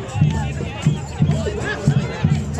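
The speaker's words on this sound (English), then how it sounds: "Waiting crowd cheer." A waiting crowd cheers at the close of a Jack in the Green procession, a dense outdoor roar of voices with rhythmic drum beats pulsing steadily underneath.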